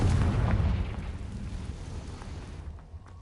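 A Confringo fire-blast spell from Hogwarts Legacy erupts as a loud, broad boom close by, its rumble fading over about three seconds with no voices over it.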